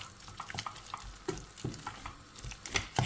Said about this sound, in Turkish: Şöyle unumu ekliyorum. Karıştıralım.